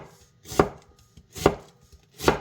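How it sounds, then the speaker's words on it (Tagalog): Three evenly spaced knife strokes slice an onion into thin strips on a board for papaya atchara, each a crisp, close chop with quiet pauses between. "So, hiwain naman natin yung ating onion."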